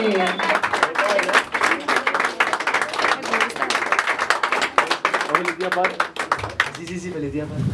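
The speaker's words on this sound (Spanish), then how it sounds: "Fuerte el aplauso para él," A crowd at a mariachi birthday celebration claps in dense, continuous applause that stays fairly loud throughout, with voices talking over it.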